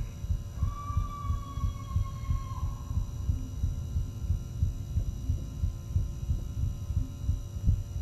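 Heartbeat in the Backrooms VR video game, a low, steady thumping pulse repeating throughout over a faint hum, with no talking.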